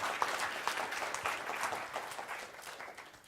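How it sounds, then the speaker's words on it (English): An audience applauds steadily with a soft, dense patter of clapping at moderate distance, tapering slightly toward the end. "Give him a round of applause."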